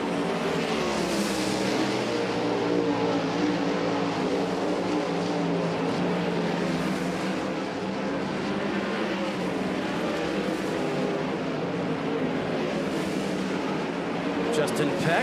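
410 sprint car engines roar around Port Royal Speedway on the final hot lap session, a continuous rising and fading drone of several cars under an announcer's talk.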